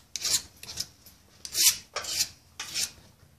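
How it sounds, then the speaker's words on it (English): A flat file rasps across a metal edge held in a vise, five separate close strokes in a steady back-and-forth rhythm, each a bright scraping burst with brief pauses between. "just get your flat file and just work the edge until it's nice and flat"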